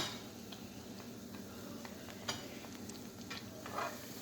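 Egg frying in hot oil in a pan on a stove, a soft continuous sizzle with scattered faint ticks and pops, quiet and steady with no talking.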